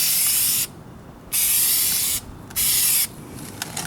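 A Duplicolor spray paint can lays a light tack coat on a 2004 Kia Spectra rear bumper in three close, loud hissing bursts with short quiet gaps between them.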